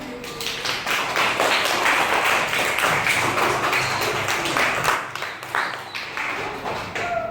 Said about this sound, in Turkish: Alkışlayalım Ümmü Gülsüm'ü